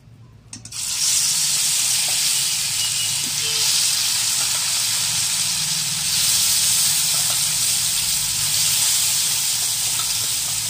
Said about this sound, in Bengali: এবার একে একে মাছগুলো তেলের উপরে দিয়ে দেবো।